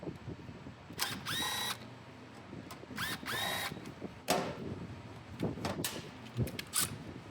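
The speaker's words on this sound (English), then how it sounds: "First, loosen caliper pins, 5mm Allen wrench." A 5mm Allen wrench works the front brake caliper pins on a 2005-or-later Honda CBR600RR, giving short close bursts of metallic clicking and whirring, two longer ones early and scattered shorter knocks later, with no talking.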